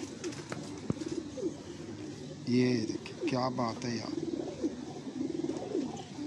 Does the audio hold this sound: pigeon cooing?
yes